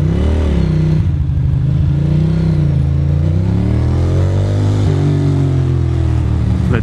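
A Honda motorcycle engine revs loudly and steadily up close, its pitch rising and falling in repeated swells over several seconds, with no voices.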